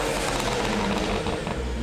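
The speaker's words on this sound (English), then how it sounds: "Pops are way louder and you can just hear the engine more." Tuned BMW 335i engine revving hard close up, a dense continuous roar with crackling exhaust pops layered through it.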